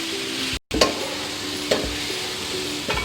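Chana dal goes into a pan of frying spices, giving a steady close sizzle broken by a few sharp clinks and scrapes of stirring, with no talking.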